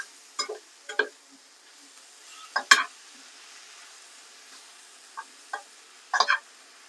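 Carrots are stir-fried in a pan kept as hot as possible. Faint frying hiss sits under scattered spatula scrapes and ticks that come in short irregular bursts with quiet gaps between them, and no one speaks.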